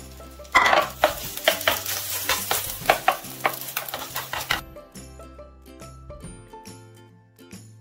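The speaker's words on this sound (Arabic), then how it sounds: "اول مرة اسوي بيض في الوافل" Egg cooks in an oiled waffle maker, opening with a burst of sizzling and a run of clinking taps and knocks against the metal plates before settling into quiet faint hissing; close, no talk.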